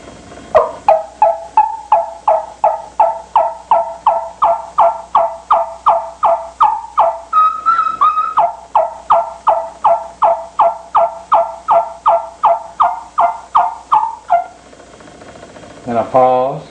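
A Spanish dagger yelp turkey call imitates a hen's yelp in a long, steady run of evenly spaced notes at low, even volume, close by, with a brief higher stretch midway before stopping near the end.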